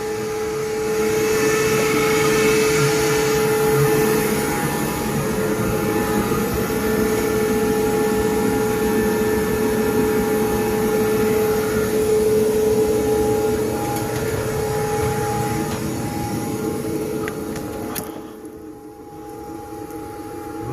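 Insulation blower forcing loose insulation up into an attic, a steady loud roaring rush of air and machinery that runs continuously before dipping briefly near the end, with no talking.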